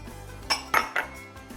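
Smoothie ingredients such as leafy greens, bananas, kiwi, cucumber and pineapple drop into a blender jar with a few quick clinks and knocks against hard plastic or glass, fairly quiet and close.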